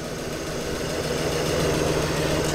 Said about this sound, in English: That's one sweet sounding engine, that is.